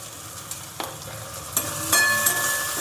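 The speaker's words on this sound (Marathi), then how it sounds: "आता हे चांगलं परतून देऊ आपण।" Garam masala, Kashmiri red chilli powder and coriander powder sautéing in oil for dal tadka, a close, steady sizzle broken by a few sharp stirring scrapes against the pan.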